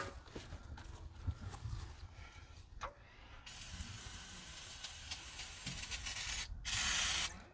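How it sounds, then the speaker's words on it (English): Brake cleaner hissed from an aerosol can onto a big block Ford engine, with faint close rustling at first, then a steady spray hiss and a louder final burst near the end. "Ideally we'd use gasoline or something instead of brake clean, but that's what I have, so this is what we're using."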